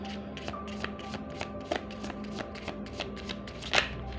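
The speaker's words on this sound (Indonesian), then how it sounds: "Kita akan tarik kartu ya, 1 kartu di sini." Tarot cards are shuffled close up during a reading, giving a continuous riffling, flicking patter with regular soft slaps of the deck and no voice over it.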